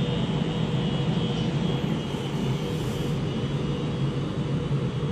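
A diesel train engine at Wigan North Western station fires up and pulls away, giving a loud, steady, broadband roar that stays constant throughout with no talk.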